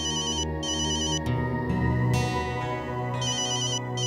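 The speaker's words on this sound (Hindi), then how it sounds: "माई उनके ही सुरेश भाई का फोन" A phone rings with a loud electronic melodic ringtone that repeats its pattern several times in a steady, uninterrupted run.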